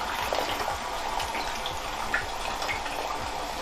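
Filtered well water running steadily in a darkroom for washing prints, a constant soft splashing rush with faint irregular ticks and drips, nothing else heard.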